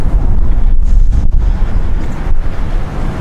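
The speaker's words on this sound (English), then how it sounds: "It is kind of a windy day today, so if you're hearing some wind, that's why." Strong wind on a beach buffets the microphone in a steady loud roar with low rumbling gusts, briefly easing a few times before surging again.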